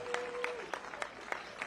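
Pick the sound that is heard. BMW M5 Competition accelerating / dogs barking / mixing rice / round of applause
round of applause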